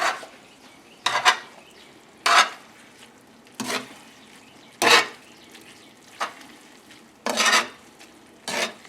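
Linguine being tossed and stirred in a hot pan, with a quiet steady sizzle broken by about eight sharp bursts of scraping and clattering utensils against the pan at roughly one-second intervals.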